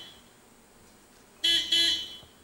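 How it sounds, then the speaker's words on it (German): Two short honks from a car horn in quick succession, fairly near, after a quiet stretch. "ich habe hier einen Hupen gehört"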